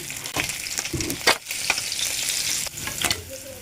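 Small fish sizzle and crackle in hot oil in a wok, close up, with a few sharp scrapes and clinks of a utensil stirring the pan.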